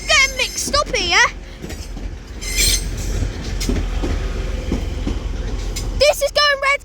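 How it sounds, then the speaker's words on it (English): A TransPennine Express class 185 diesel unit at Manchester Piccadilly, with loud wheel squeal bursts at the start and end over a low rumbling run, and a voice speaking in between. "formerly delayed 1458 Transpennine Express service to Redcar Central 185110 is at the rear"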